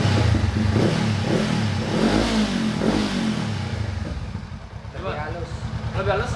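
Honda CB500X motorcycle engine revved with a few sharp throttle blips, loud and close, the engine note rising and falling, with people talking alongside.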